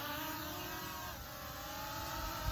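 Snaptain P30 drone motors spin up for a manual takeoff, a steady close whine with a high tonal band and a faint pitch dip midway, continuous and alone without talk.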